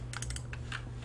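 Computer keyboard keys tapped in quick bursts while dimensions are entered in SketchUp 3D modeling software, several close, crisp clicks with short pauses between them and no talking.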